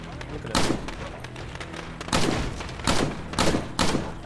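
Gunfire in the video game State of Decay comes as several loud, separate bursts of shots spread across a few seconds over steady game ambience.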